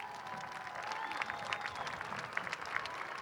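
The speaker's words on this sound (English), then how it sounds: "Warm round of applause, please." Steady applause from a parade crowd at an Armed Forces Day event, clapping at moderate volume that is slightly distant, with scattered louder claps standing out.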